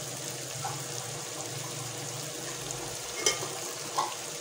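Spices such as salt, chili and turmeric fry in a pan for a Punjabi wadiyan dish, giving a soft, steady sizzle with a couple of faint clinks near the end.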